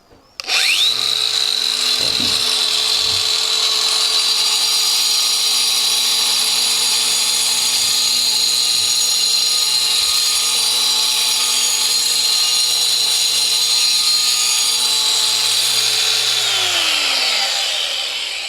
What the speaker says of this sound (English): I'm going to turn it on and I'm going to have a go at sawing this blue brick in half